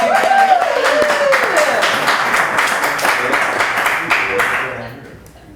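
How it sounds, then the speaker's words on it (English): A room full of people at a community talk about Oregon's timber practices breaks into applause, dense clapping with whoops and a cheer over it, fading out over about five seconds. "give yourselves a round of applause"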